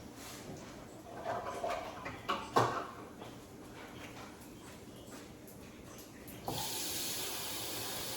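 Water running from a kitchen tap while making pork chop gravy: a soft hiss with a few clinks and knocks, then a steadier flowing rush in the last seconds, faint and close, with no talk.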